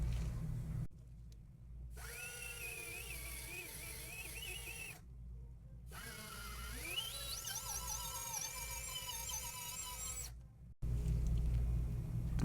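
A dental handpiece polishes a small composite filling on a premolar, whining steadily at high pitch in several bursts that rise in speed, separated by short silent gaps.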